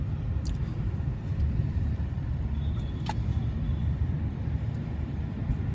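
Steady low road rumble inside a moving car, a continuous droning hum with faint higher whooshes, close and constant with no talk.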